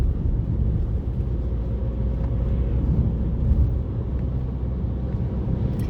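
A car drives and turns through town streets, heard from inside as a steady, muffled low engine and road rumble that holds an even level throughout with no clear breaks.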